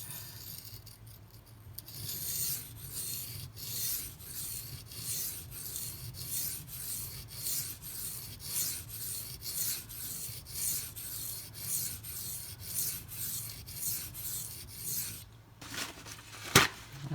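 A Benchmade Mini Crooked River knife blade is drawn across a very hard sharpening stone in steady, evenly spaced rasping strokes, close and continuous, ending with a sharp tap.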